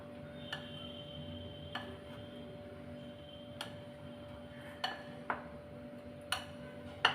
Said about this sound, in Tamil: இப்போ இதை நல்லா கலந்து விட்டுறலாம் எல்லாத்தையும்.